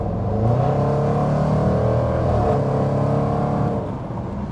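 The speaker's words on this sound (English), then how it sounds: "Let's see if we can give it some gas in the corner." A 2019 Jaguar F-PACE SVR accelerating hard through a sweeping corner, its engine droning loudly and steadily with rising tone, easing off slightly near the end.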